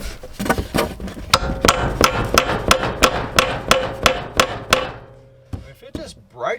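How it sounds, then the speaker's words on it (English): Repeated hammer strikes drive a fitting into a broken pipe nipple, a dozen sharp metallic blows in a steady rhythm, loud and close, then a brief pause and a few softer knocks at the end. "Let me go get a hammer and actually pack that up in there."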